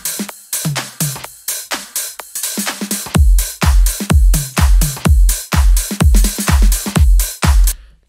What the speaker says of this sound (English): Then at the end, I added some toms.